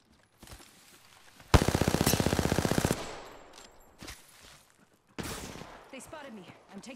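Rapid automatic gunfire in the video game Apex Legends: a loud, dense burst of about a second and a half, followed by a few shorter bursts and isolated shots, with a voice talking between them.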